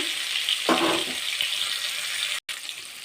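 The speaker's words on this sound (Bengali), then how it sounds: "লবণ ও হলুদ দিয়ে ফুলকপিটা মাখিয়ে রেখেছিলাম, কত সুন্দর করে এগুলো আমি ভেজে নেব।" Cauliflower pieces coated in salt and turmeric fry in hot oil, giving a steady, close hissing sizzle with a brief burst of bubbling and crackle as pieces shift in the pan.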